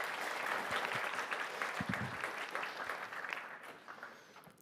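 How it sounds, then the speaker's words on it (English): Conference audience at DConf '23 applauds a speaker, a dense even wash of clapping that holds steady and then slowly thins and fades, with no voices over it. "Applause, come on, programmer energy"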